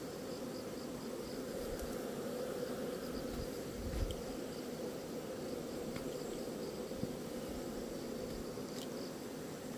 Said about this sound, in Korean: 근데 지금 땅벌이 설치고 있죠.